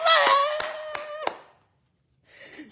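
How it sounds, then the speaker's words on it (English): A few sharp hand claps ring out during a live cooking broadcast, following a sustained voice, then a short silence before faint sounds return. "Hey, let's clap for Nazma"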